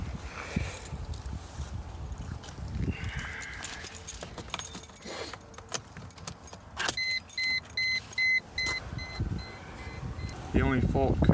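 Keys jangle in the ignition of a 2002 Mercedes E320 with a no-start fault as it is switched on. Several chimes and electronic beeps follow, close by, with speech in the background.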